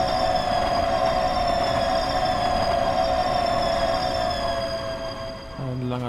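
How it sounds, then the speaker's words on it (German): A passing train in Train Sim World 4 fills the scene with a loud, continuous rumble of rolling wheels and a steady tonal whine, easing slightly near the end as a new engine tone comes in. "Hier fährt noch ein Zug."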